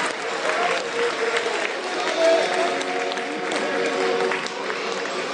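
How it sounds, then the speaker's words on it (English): A modest football crowd at Firhill applauds and murmurs as the teams come out for a Partick Thistle versus Celtic pre-season friendly, with a steady wash of clapping and crowd noise rising slightly midway. "Not exactly a great crowd here, but it is only a pre-season friendly."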